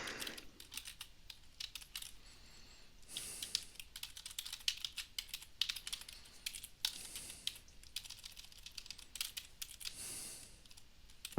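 Keys clatter on a computer keyboard in quick bursts of typing separated by short pauses, soft and fairly close, with no voices.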